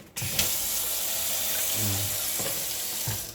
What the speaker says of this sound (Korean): 물도 아주 시원하게 수압도 좋습니다